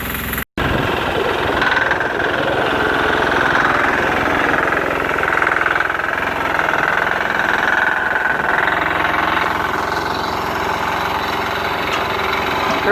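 A 6HP diesel Sears Suburban tractor engine runs loud and steady outdoors in snow-plow testing, a continuous throbbing drone with a brief cut right at the start.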